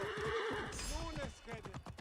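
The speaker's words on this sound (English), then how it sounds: "Just the horse neigh in the middle of that" A horse in Assassin's Creed Origins gives a loud, wavering whinny that rises and falls, with hoof clops and a person talking alongside.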